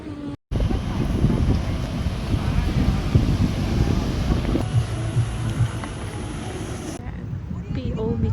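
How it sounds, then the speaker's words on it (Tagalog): Wind buffeting a microphone outdoors on a city walk in Kaohsiung, Taiwan, a steady loud rushing roar lasting several seconds after a brief cut, with a faint background voice beneath it. "Hangin."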